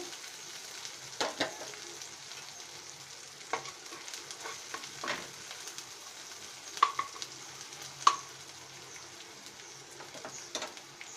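Spiny gourd (kakrol) fries quietly in a pan, a soft continuous sizzle broken by occasional scraping stirs and a few brief sharper clicks of spatula against the pan.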